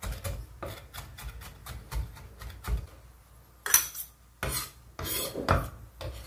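A knife mincing tomato on a cutting board: a quick run of sharp, close chopping taps, then a pause followed by a few louder, heavier chops.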